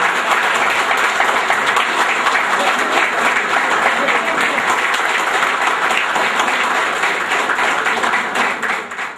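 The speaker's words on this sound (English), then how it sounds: "Give a big applause for Sudha Madam." Audience applause at a school get-together, a dense, steady round of clapping from a crowd that carries at full level for about nine seconds before easing slightly at the end.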